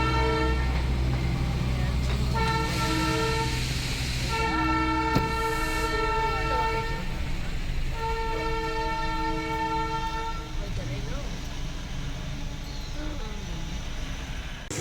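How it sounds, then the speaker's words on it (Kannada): The Darjeeling toy train arrives with repeated loud horn blasts in several bursts over a constant low mechanical rumble of the moving train, with faint voices in the background. "ಡಾರ್ಜಿಲಿಂಗ್ ಟಾಯ್ ಟ್ರೈನ್ ಬರ್ತಾ ಇದ್ದಂಗೆ ಸ್ಟಾರ್ಟಿಂಗ್ ಎಂಟ್ರಿ ಸಿಕ್ತು."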